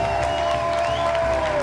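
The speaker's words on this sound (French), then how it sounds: "je vous demande déjà de l'applaudir" Crowd at a worship event greets Derek Jones with brief applause and cheering, mixed with a sustained tone and whoops over the noise.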